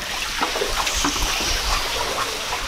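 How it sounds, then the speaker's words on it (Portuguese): Water splashing and trickling in a continuous wet wash with small splatters, fairly loud and close, no voices over it. "Com aquela quantidade de água que eu joguei,"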